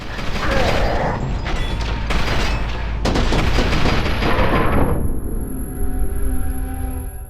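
In the video game FEAR 2, gunfire hits a fuel tank and sets off a loud booming explosion with rattling gunshots and debris. The blast then fades into a lingering hiss and rumble.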